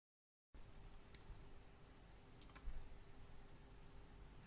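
A plus key pressed on a computer keyboard while working in CorelDRAW, heard as a few faint, sharp clicks over a low steady room hum.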